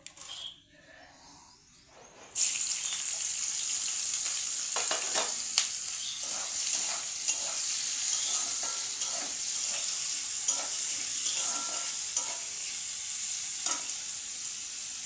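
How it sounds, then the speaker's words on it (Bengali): Potato, onion and chili frying in hot oil in a kadai, a steady loud sizzle that starts abruptly and continues with scattered scraping stir clicks throughout. "এই তেলেই আমি এখন এই আলু, পেঁয়াজ আর লঙ্কাটা ভাজা করে নেব সুন্দর করে।"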